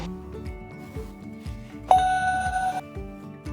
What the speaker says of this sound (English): The noise indicates that it is paired successfully